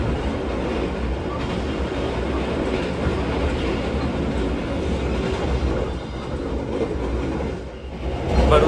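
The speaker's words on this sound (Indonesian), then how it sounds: "Baru saja kereta api Malioboro Express ini melintas langsung stasiun Gawo ya teman-teman" The Malioboro Express passenger train thunders through a station at close range without stopping, a loud sustained rumble with rhythmic wheel clatter that eases slightly before surging again.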